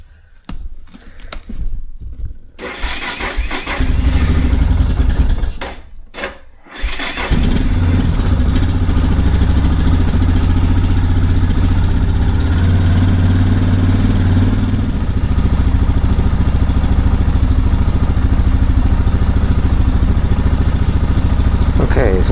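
Motorcycle engine starting and then idling steadily before a first ride of the season, loud and close with a continuous low rumble after a few seconds of handling noise, and someone talking at the start.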